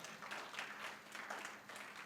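Faint applause from a church congregation at a Sunday service, a soft continuous patter of clapping heard from a distance.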